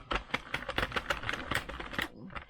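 A circular knitting machine is cranked by hand to take off the work, producing a quick run of light, irregular mechanical clicks and clacks that stop abruptly at the end.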